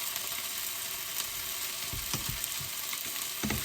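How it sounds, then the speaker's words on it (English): Salted butter melts into hot olive oil in a pan, giving a steady, soft hiss of frying with a few low knocks and stirring sounds near the end, quiet and without voices. "So I'm going to add some salted butter."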